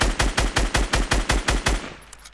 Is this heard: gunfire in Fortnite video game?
yes